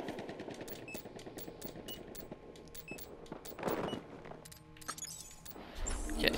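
Rapid automatic fire from an M12S submachine gun in Battlefield Hardline, steady bursts of tight, snappy shots repeating across the span, with some clinks and a rising rumble near the end.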